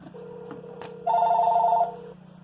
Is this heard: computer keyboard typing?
no